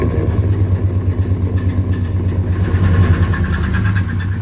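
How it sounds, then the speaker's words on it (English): A 2016 Chevrolet Silverado 1500 pickup engine with a hot cam and shredded bearings runs close by with a rough, pulsing idle rumble that holds steady the whole time, nothing else heard over it. "starting the engine."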